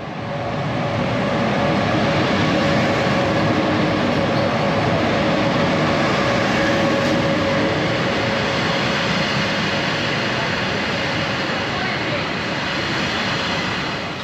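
A VY overnight train pulls into a Swedish station bound from Stockholm to Luleå, a loud, steady rumble of wheels and rolling stock filling the whole stretch with a faint tonal hum, and a little talk beneath it.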